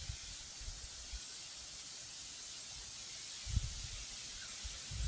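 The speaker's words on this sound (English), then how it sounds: "You can hear it. Hear it? It's the wind." Wind blows through trees on a windy day outdoors as a steady, faint broadband rush with low gusty rumbles and buffeting, swelling briefly midway and again at the end.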